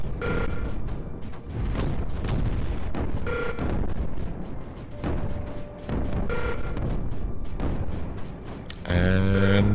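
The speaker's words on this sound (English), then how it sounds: "These damn snipers shooting my eggs" Snipers fire in the video game Creeper World 4, a run of repeated booming shots and impacts in irregular bursts over a dense game background, ending in a brighter electronic effect.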